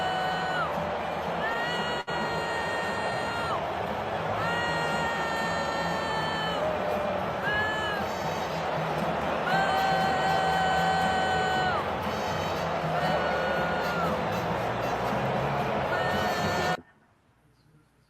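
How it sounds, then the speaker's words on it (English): A large crowd at a tennis event roars with sustained whoops, yells and cheering, layered with rising shouted calls, loud and continuous for most of the stretch before cutting off abruptly to near silence. "So Trump got booed over the weekend."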